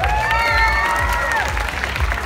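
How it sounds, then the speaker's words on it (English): A festival crowd at a gaming event claps and cheers steadily, dense applause under a few sustained shouted whoops, loud and close throughout. "Yeah, give him a clap."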